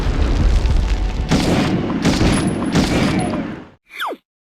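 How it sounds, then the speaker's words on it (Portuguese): Dense, continuous rumble of first-person shooter video game explosions and gunfire with repeated heavy booms, loud and chaotic, cutting off abruptly into a brief whooshing sweep at the end. "cada vez que você jogar e ouvir explosões, gritos e tiros, vai saber que foi retirado do filme"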